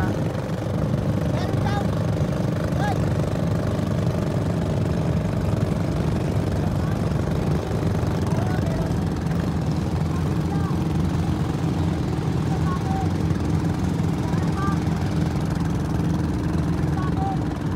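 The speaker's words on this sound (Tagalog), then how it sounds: "yung ganitong tunog ng bangka, no, nakakamiss umuwi ng probinsya" A fishing boat's engine drones steadily on Manila Bay, a low continuous throb that holds for the entire span while people chat nearby over it.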